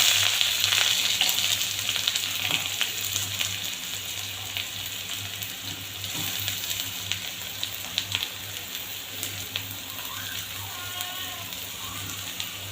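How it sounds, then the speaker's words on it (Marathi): Chopped onion frying in hot oil for veg paneer bhurji, a dense, constant sizzle like light rain, with a few soft clicks of utensils over it. "आणि मी इथे आहे ते तेल तापत ठेवलेलं आहे. तर आता मी त्यात कांदा घालते."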